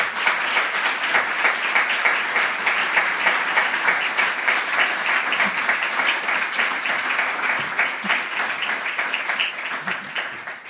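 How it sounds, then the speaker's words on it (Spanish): Audience applause at a formal ceremony honoring Eduardo Chillida, dense sustained clapping from a large crowd that stays steady throughout and fades slightly at the end. "Otro aplauso, por favor."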